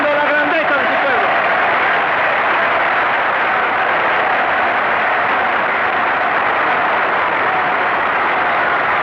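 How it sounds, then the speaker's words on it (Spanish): A huge crowd of railway workers applauding, a dense, unbroken roar of clapping that holds steady and loud for several seconds on an old, muffled recording. "deseo que los ferroviarios demos un aplauso generoso y sincero de lealtad"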